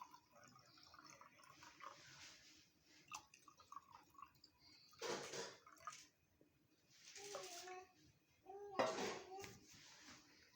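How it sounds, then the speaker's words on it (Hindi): Water splashes and trickles into a glass for gur sharbat in a few short bursts, with quiet clinks and handling noises between pours. "अब मैं इसमें पानी डाल रही हूँ।"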